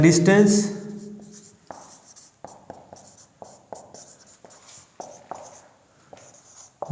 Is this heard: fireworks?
no